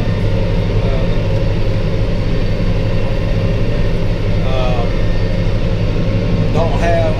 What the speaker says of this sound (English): It's a nice tractor.